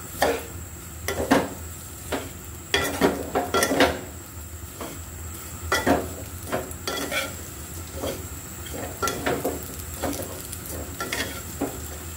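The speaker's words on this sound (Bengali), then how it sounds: "ঘিতে একটু ভালো করে ভেজে নিব।" Vermicelli frying in ghee in a pan over the stove's residual heat, stirred steadily, with a soft sizzle under repeated scraping and clacking strokes of the spoon against the pan.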